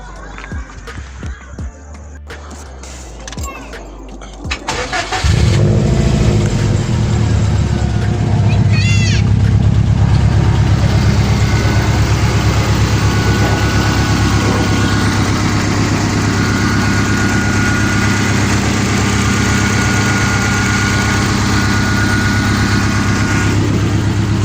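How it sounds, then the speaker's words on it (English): A Subaru Impreza WRX engine cranks and catches after a few seconds of quiet shuffling, then settles into a loud, steady, smooth low rumble of idle that holds unbroken to the end. "We're gonna start it and we're gonna drive it and test it."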